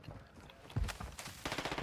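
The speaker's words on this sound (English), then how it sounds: "Don't worry about that there gunfire." Gunfire rattles in the video game Warzone 2, a brief burst of rapid shots followed by a quicker string of pops, fairly faint and distant-sounding over a low game background.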